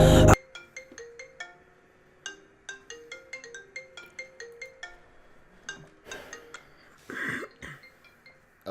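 A phone ringtone plays an incoming call as a repeating melodic chime, with pauses between phrases and a few clinks and a cough in the room.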